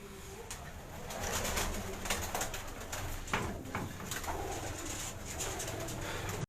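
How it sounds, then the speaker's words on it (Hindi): Pigeons in a loft coo softly and intermittently amid rustling, fluttering and scattered clicks, a busy close background without talk. "ये तनवीर भाई के कुछ कबूतर खड़े हुए हैं"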